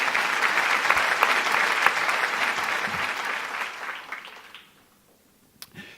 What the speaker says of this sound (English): I'd like you to join me in a round of applause for our sponsors